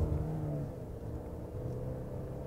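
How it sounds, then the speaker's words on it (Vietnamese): A VinFast Lux A2.0 sedan's engine holds high revs under acceleration as a steady low rumble and whir heard from inside the car, moderately quiet, with no talk. "Các bạn sẽ thấy được cái động cơ nó hoạt động ở vòng tua cao khá là tốt."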